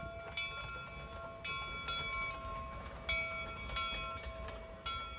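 A train rumbles steadily at a distance at Golden Spike in northern Utah, while tonal horn-like blasts and metallic squeals recur every second or so, with no talking.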